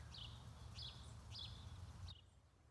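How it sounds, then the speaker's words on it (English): Birds chirping outdoors on a hot day, a steady series of bright repeated calls about every half second over a low background hum, fairly faint. "Birds."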